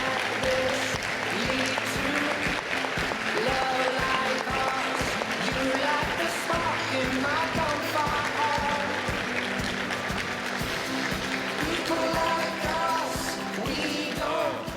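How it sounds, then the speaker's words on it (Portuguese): Sustained audience applause fills a lecture hall at the close of a talk, a dense, steady wash of many hands clapping with a few voices mixed in, holding loud and even throughout. "Mais aplausos"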